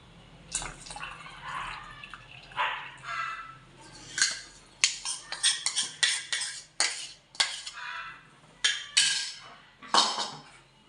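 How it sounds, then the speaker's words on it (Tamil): A spoon stirs a milk mixture in a metal pot for vanilla ice cream, giving quick irregular clinks and scrapes with wet swishes, close and steady with no talk. "சேர்த்து விட்டு நல்லா கலந்து கொடுத்துடலாம்"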